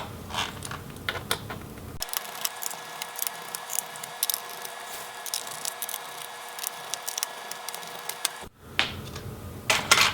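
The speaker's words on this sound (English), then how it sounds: "remove all of these Torx head bits" Torx screws being backed out of the bottom case of an Asus Zenbook UX580G laptop, a run of small clicking, ratcheting driver sounds up close, with a steadier whirring stretch in the middle and no talk.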